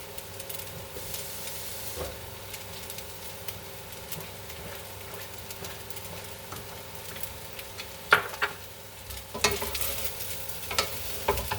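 Green peas and carrots sizzle in a hot pan, stir-fried for oxtail fried rice, with a steady crackling hiss broken by louder scraping stirs near the end, close and without talk.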